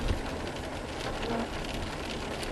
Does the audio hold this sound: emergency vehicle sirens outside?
no